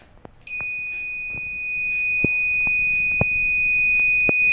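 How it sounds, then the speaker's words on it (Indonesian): A buzzer on an Arduino rain and fire detector for a clothesline sounds a steady, loud, high electronic tone that holds for several seconds, with a few sharp clicks and taps underneath and no voices. "Di sini buzzernya akan berbunyi dan pada Tinger IO-nya akan muncul tidak aman."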